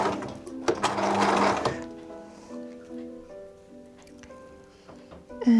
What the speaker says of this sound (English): And start sewing it down.